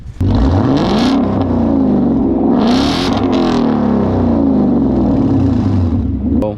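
A car fitted with an MBRP exhaust revs hard and loud up close, the engine note climbing and falling through several throttle blips with a raspy, rumbling roar that fills the whole stretch.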